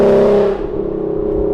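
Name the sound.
S550 Mustang with ghost cam tune revving, exhaust note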